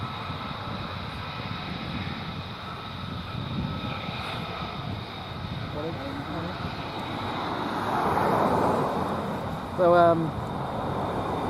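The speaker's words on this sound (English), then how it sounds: "I've got quite a few F-35s coming out" F-35 military jets operating at RAF Lakenheath, a steady distant roar of jet engines building slightly louder toward the end, with a brief single spoken word over it.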